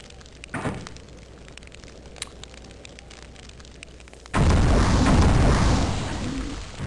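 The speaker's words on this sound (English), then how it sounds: "the fire attack really hurts" A fire attack in the game Hexen 2 erupts suddenly as a loud, sustained roaring burst after quiet ambience, holding strong for a couple of seconds before easing slightly.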